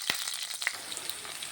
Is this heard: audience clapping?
no